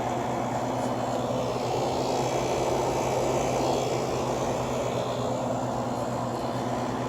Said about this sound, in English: Turn it up to high. Compressor does quiet down a bit when it goes up to high.